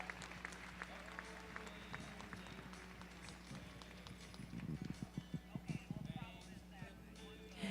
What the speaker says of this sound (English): I ask that you take them out with a nice round of applause